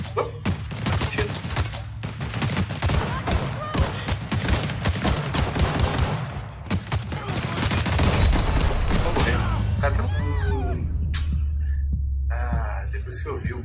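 Rapid bursts of gunfire from the video game The Outer Worlds, dense overlapping shots against an enemy in heavy armor, loud and continuous for several seconds before thinning into scattered shots over a low rumbling game soundtrack.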